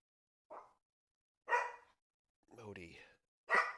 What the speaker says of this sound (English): You don't need to bark at everything you see.